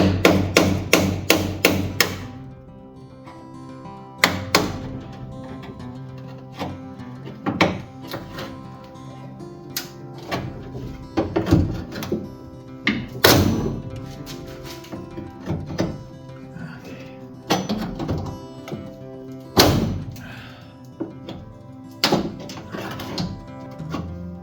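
Hammer blows on a car trunk latch, struck to free a stuck pop rivet: loud, close metallic strikes, a rapid burst of several at the start, then single hits and short clusters spaced a few seconds apart, with no talk.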